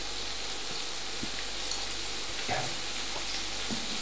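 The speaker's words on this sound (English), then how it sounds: "So in the leeks go." Chunky cut leeks sizzle steadily in a hot pan, a constant close frying hiss with a few soft stirring knocks and no voices.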